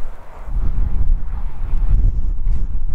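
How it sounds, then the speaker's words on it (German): Icy wind gusts buffet the microphone outdoors in Iceland, a steady low rumble with rising and falling surges lasting the full three seconds, loud and close, with no voices. "Es scheint zwar jetzt mittlerweile die Sonne, aber der Wind, der ist so eisig heute."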